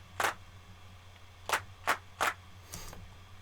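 The whole band clapping together with smacks on a band member's belly, recorded for a song: four sharp, loud claps, two close together near the end, then a softer, blurred hit, over a low steady hum.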